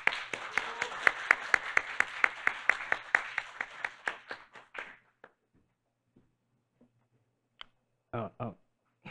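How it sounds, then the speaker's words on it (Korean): Applause from a conference audience at an ESG forum welcoming a presenter to the stage, a dense burst of many hands clapping that thins out over about five seconds into a few scattered claps, followed by brief microphone bumps. "큰 박수로 환영해 주시기 바랍니다"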